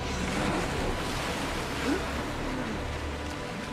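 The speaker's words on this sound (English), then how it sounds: "Fight the waves." Ocean waves surge and crash against slippery rocks in a dramatic period drama scene, a steady roaring wash of surf and wind filling the whole stretch with a brief swell near the middle.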